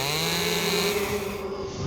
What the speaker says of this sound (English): Chainsaws. Absolutely nothing I want to hear in a game like this.